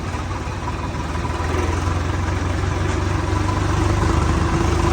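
A tractor fitted with a rotavator runs steadily nearby, a loud, even engine drone with a low vibrating throb, without speech.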